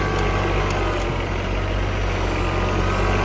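A used Mitsubishi GCR18 mini tractor with a Yanmar engine runs steadily at idle nearby, a continuous low diesel rumble with a faint high whine above it and no pauses.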